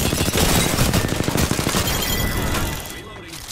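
Rapid automatic gunfire from a video game plays loud and close in a continuous chattering stream, tapering off near the end, with a voice faintly mixed under the shots.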